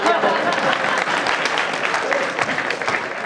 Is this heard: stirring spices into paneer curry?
no